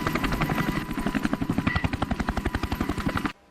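Helicopter hovering over a storm-tossed army ship at sea, its rotor beating in a loud, fast, even chop that stops abruptly at the end.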